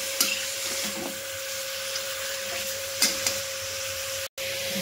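Chicken fries in ghee in a pan while being stirred gently, with a steady sizzle and a few soft scraping knocks, and a low hum under the cooking.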